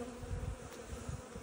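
Steady swarm buzz of honeybees at an open hive, a continuous low droning hum close by, soft and unbroken with no voices over it.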